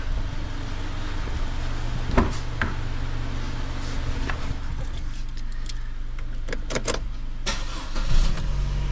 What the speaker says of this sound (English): we're gonna see if the Chevy starts back up